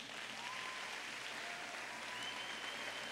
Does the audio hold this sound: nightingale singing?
no